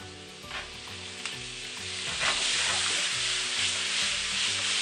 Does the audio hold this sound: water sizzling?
yes